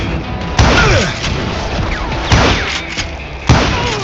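Gunshots from the Western shooter Call of Juarez: Gunslinger boom out in three heavy, widely spaced blasts, loud and close, each trailing off over busy game action and ricochet-like whines.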